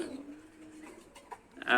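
Pigeons coo softly in a breeding loft, a low steady murmur with a brief flutter of movement near the end, mixed with faint background voices.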